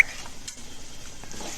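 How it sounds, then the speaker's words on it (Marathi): A chili-garlic paste is stirred into frying onion and tomato in a pan, giving a brief soft sizzle with a spoon scraping, close by and short. "मिरची आणि लसूणची पेस्ट टाकून व्यवस्थित मिक्स करून घेऊया सर्व आणि थोडं फ्राय होण्यासाठी ठेवूया"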